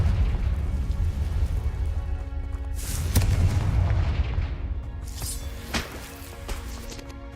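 A Confringo blasting spell goes off in a Harry Potter wizarding video game, deep rumbling booms with sharp cracking bursts over a dense, continuous background of game effects and ambience.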